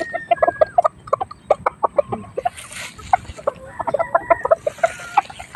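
Several chickens cluck in short, repeated bursts at close range while feeding, a steady pecking chatter with brief pauses and a few higher squawks mixed in.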